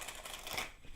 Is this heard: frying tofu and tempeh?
no